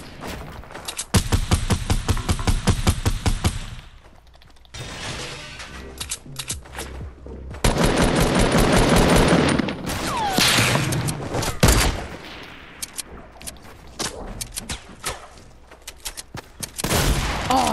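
Gunfire in the video game Fortnite: dense, loud bursts of rapid automatic fire and single heavy shots, broken by a short lull and ending in scattered shots and thuds, with occasional talk over the action.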